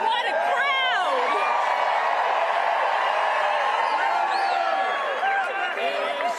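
A large rally crowd in Phoenix, Arizona cheers and whoops nonstop, a loud, dense roar of voices with shrill whistles and cries rising over it throughout.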